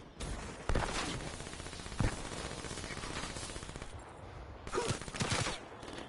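VMP submachine gun firing in the video game Black Ops 3: dense, rapid automatic bursts rattle continuously, with a few sharper impact spikes, at moderate loudness throughout.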